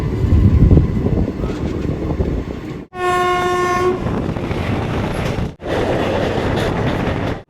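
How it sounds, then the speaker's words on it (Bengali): The Teesta Torsa Express pulls into a station, its loud horn blaring for about a second amid the rumble and clatter of rolling coaches, close by with no speech. "ট্রেন ঢুকছে এবার ব্যান্ডেল।"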